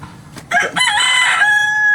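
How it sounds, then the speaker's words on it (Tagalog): A rooster crows once, loud and close, its drawn-out call rising then holding a steady high note to the end. "Dami niyong manok ngayon ah."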